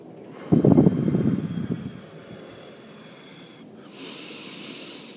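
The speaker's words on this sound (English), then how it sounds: "hold for 1, breathe out for 7." A deep, slow exhale during a breathing exercise, a loud breathy rush close to the microphone that gradually tapers off, followed by quieter background hiss with no speaking.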